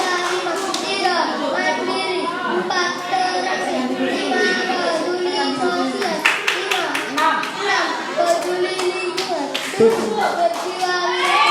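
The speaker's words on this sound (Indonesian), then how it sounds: "Tepuk tangan luar biasa." Children at an Islamic elementary school in Jombang clap rhythmically in unison, with sharp claps mixed among kids' voices and chatter in a classroom.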